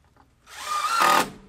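A power drill drives screws into rafters during a shipping-container lean-to build, a short whirring burst that rises, peaks loud and close for about half a second, then winds down.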